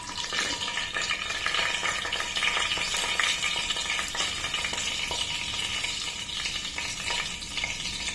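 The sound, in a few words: tempering seeds spluttering while frying in hot oil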